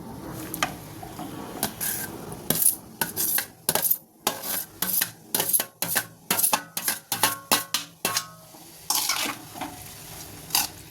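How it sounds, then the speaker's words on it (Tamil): Metal utensils clatter and scrape repeatedly against a pan as tomatoes are stirred into a frying prawn gravy, a soft sizzle running underneath the irregular, close knocks. "இப்போ தக்காளியை போட்டுக்கலாம்."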